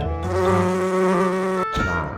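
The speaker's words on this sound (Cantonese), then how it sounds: "烏蠅飛過都聽到啊" A housefly buzzes steadily and close by in a quiet apartment bedroom in Kuala Lumpur, a sustained droning whine that breaks off briefly and then resumes.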